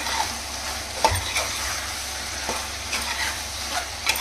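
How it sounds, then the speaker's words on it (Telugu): Chili powder and dry masala get stirred into a chicken kurma in a pan, making a loud continuous sizzle broken by several scraping strokes of the spoon and a low bump of the pan. "ఇది మొత్తం ఒకసారి బాగా మిక్స్ అయ్యే విధంగా కలుపుకుందాం"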